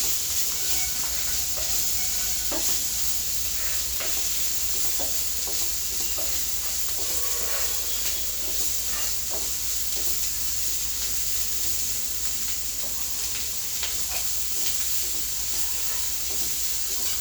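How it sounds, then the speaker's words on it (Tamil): Red chilli, green chilli and onion fry with kasuri methi in a pan for restaurant-style kadai paneer, a constant loud sizzle with occasional scraping stir strokes, close and unbroken, with no talk. "red chilli green chilli onion எல்லாம் போட்டு நல்லா ஃப்ரை பண்ணிப்போம்"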